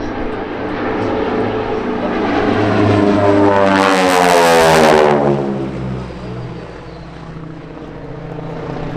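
A Titan Aerobatic team propeller plane performing at the Spirit of St Louis Airshow roars past overhead, its engine drone swelling loud at mid-pass and falling in pitch as it moves away.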